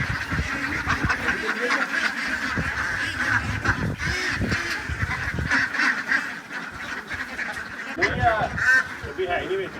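A large flock of egg-laying ducks on a duck farm quacking and honking nonstop, a dense, loud chorus of overlapping calls close by, rising in bursts throughout.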